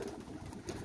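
A pigeon gives a soft, brief low coo, faint and close, in a quiet setting.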